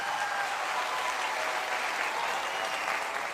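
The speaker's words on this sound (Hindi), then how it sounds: "एक जोरदार तालियां अपने आप के लिए।" Audience in a large hall bursting into loud, sustained applause, a thick continuous roar of many hands clapping evenly throughout with no talk over it.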